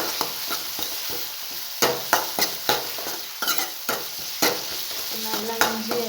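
Ginger garlic paste and onions sautéing in a pan for kadala curry, a steady sizzle broken by repeated scraping stirs of a spoon against the pan at an uneven rhythm, close and fairly loud, with no talk.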